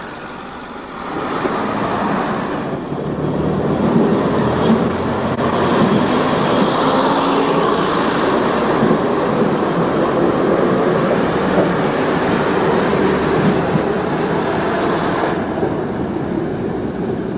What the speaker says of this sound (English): Joining our diesel multiple unit, or DMU for short, we leave Whitby Town Station